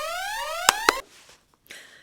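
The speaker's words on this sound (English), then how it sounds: "I set off the alarm." A loud electronic alarm blares with rising, sweeping tones and two sharp hits, then cuts off abruptly, leaving near silence and a faint rustle.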